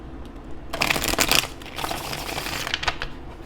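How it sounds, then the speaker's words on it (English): Tarot cards being shuffled by hand, bursts of rapid riffling flutter, close and crisp, in a couple of quick runs. "2 more shuffles for what's coming towards them in September."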